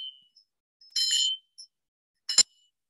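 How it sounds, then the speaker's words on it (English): A small bell rings close by with bright high rings: a faint ping at the start, a sustained ring, a tiny tap, then a second short struck ring, each followed by silence. "Here I have a bell. Get a vibration from a bell."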